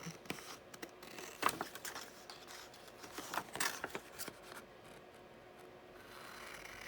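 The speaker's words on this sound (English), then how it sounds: "So just going to cut this out like that." Scissors cut a paper image out of a book page for a faux stamped postcard, giving close, irregular snips and rasping paper rustles that fade into quiet handling.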